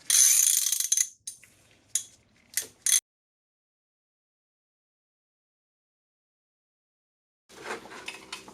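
Ratchet wrench tightening a bolt during a 1999 Acura RL timing belt and water pump job, with bursts of rapid clicking, a few short clicks, a long silence, then more ratcheting near the end.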